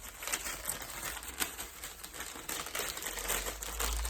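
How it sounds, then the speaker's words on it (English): A recycled brown paper bag crinkles and rustles steadily during an unboxing, crisp crackling handled close up for several seconds with no voices. "They always put their stuff in brown paper bags as well, which is quite nice."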